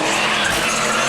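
Car tires skid and squeal in a loud, continuous screech while a car spins donuts at an urban sideshow street gathering, with no gaps for the whole stretch.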